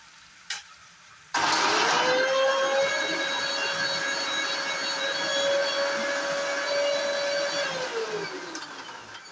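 Mixer grinder whirring steadily as it grinds cashews, garlic, green chillies and ginger into a paste, starting abruptly and running loud and continuous for several seconds before winding down.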